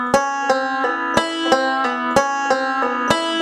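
A banjo lick picked slowly on a capoed banjo, a steady run of bright plucked notes with sharp attacks about every third of a second, close and alone.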